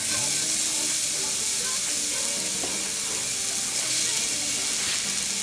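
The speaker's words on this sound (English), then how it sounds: "the first thing you want to put into your pan is your onions" Onions sizzling in hot oil in a frying pan for a cheesesteak filling, a steady broadband hiss and crackle running throughout at moderate level with no talk.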